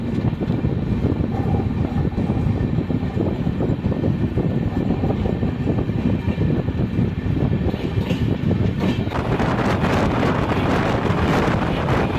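Continuous low rumbling of a train, the Nilgiri (Blue Mountain) Express, rolling steadily past a station at night, with rattling wheels and wind-like roar throughout, growing slightly busier near the end.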